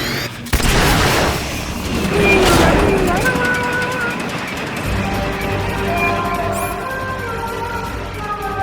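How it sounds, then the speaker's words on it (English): Booster thrusters firing in Metal Gear Solid: Peace Walker, a sudden loud blast swelling into a roaring rush that fades into a lingering mechanical hum with tonal whines. "Firing boosters"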